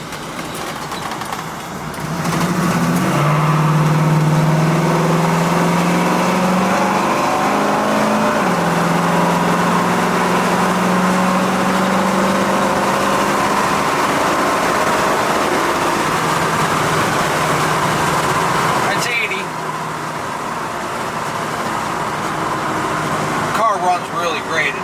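1967 Chevrolet Camaro V8 pulling hard out of a corner, engine note climbing in steady rising sweeps through the gears, loud and close from inside the car, then easing off near the end.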